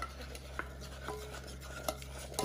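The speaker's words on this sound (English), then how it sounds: "Let me just go back to this and stir this a little bit." Melting ingredients for ginger biscuits get stirred in a pan: a soft, continuous scraping swirl with a few light clinks of utensil against metal, low and close over a steady kitchen hum.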